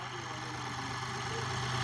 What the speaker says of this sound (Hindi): इंजन बिल्कुल स्मूथ चल रहा है, कोई मिसिंग हंटिंग कुछ नहीं है